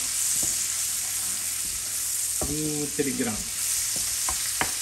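Onion frying in butter in a pan gives a steady bright sizzle throughout, with a few soft clinks and scrapes of stirring and a brief spoken word near the start.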